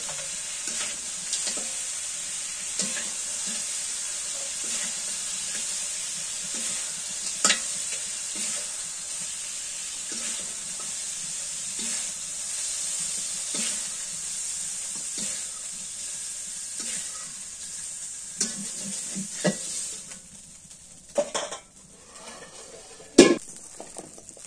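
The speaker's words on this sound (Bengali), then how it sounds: "নামায় নিয়ে এই কড়াইয়ের মধ্যে পানি কুমড়াটা একটু ভাজি করে নেই।" Ash gourd frying in a wok, with a steady bright sizzle under regular scraping stirs and occasional metallic clinks of the utensil against the pan. A few louder knocks come near the end, and no one speaks.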